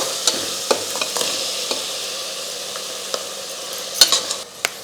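Tomatoes stirred into ginger-garlic paste frying in a pan for vegetable biryani: a soft, continuous sizzle broken by scattered clinks and scrapes of a spoon against the pan.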